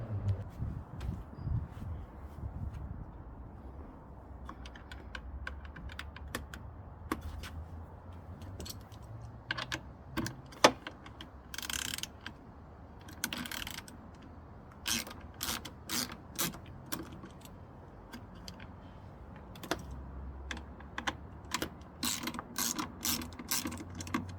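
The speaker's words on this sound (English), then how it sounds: "Now we're going to remove these two screws and release the cap on the actuator." Screws being undone with a ratcheting driver on the tailgate actuator cap of a Land Rover Discovery 4, close-up rapid ratchet clicking in uneven bursts over a low background hum.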